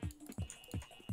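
Computer keyboard keys clack in four evenly spaced, close, soft strokes with a faint steady tone behind them.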